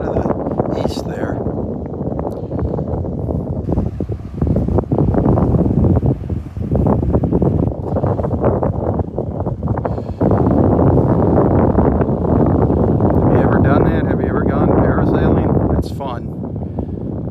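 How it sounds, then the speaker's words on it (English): Strong east wind buffets the microphone on a beach at Delnor-Wiggins, a loud, continuous roar with gusty surges throughout and faint surf beneath, while someone speaks over it. "You hear that wind coming right out of the east there."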